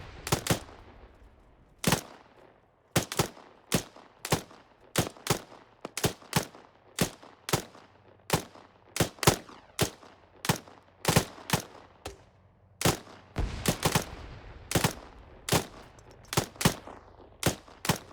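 Gunfire from a 5.56 rifle in a video game rings out in loud, sharp single shots and short bursts, repeating irregularly and almost without pause over a quiet background.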